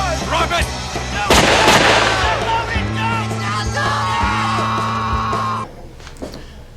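Loud gunshots and yelling in the shooting scene from The Outsiders, a burst of sharp blasts followed by shouting and sustained tones.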